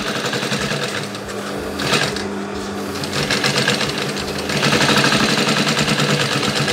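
A sewing machine runs steadily at moderate speed under light pedal pressure, a continuous close whirring hum that briefly eases near the two-second mark, then swells a little louder toward the end.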